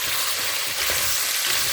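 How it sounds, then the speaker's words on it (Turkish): Meat and carrots sizzle steadily as they sauté in a hot pan for a leek and meat dish, a constant crackling hiss with faint stirring, no talking. "Etlerle birlikte havucumuzu iyice karıştırıyoruz, kavuruyoruz"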